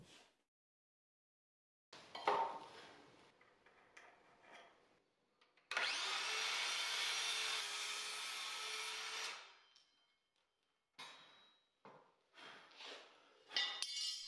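A saw cuts a 45-degree angle into the top of the wooden side pieces of an outdoor lounge chair back, one steady rasping pass of about four seconds between shorter scraping and knocking sounds, fairly quiet.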